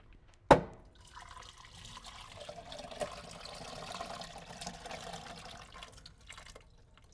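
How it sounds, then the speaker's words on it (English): Cooked potatoes are drained, opening with a sharp clunk of the pot before a steady, moderately quiet pour of water runs and splashes into a sink for several seconds. "So we've got our potatoes that are already cooked, and I'm going to just drain off the water."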